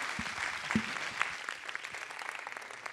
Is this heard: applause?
yes